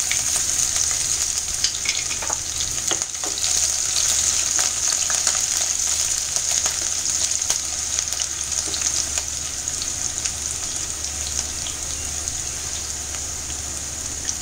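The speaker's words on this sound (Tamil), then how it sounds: "பூண்டு சின்ன சின்ன குட்டி குட்டியாக கட் பண்ணி பூண்டையும் இஞ்சியையும் சேர்த்துக்கோங்க." Chopped garlic, ginger and green chilli fry in hot oil in a pan for a Tamil kara sev kuzhambu, giving a steady, close, even sizzle with faint crackles and no one speaking.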